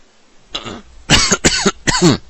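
Someone lets out a short series of coughs during a Dungeons of Dredmor game session: one light cough, then two or three harsh, close bursts in quick succession, with no talk over them.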